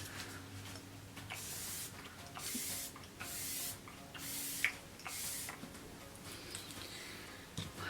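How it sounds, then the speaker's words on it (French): A pump bottle of makeup setting spray fires several short, close hissing bursts in a quick uneven series, with faint clicks between them and no talking. "Je vais prendre ce spray."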